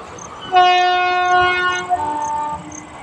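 A train horn blares in a long, loud sustained tone over the rumble of a passing express train near a station, fading slightly near the end.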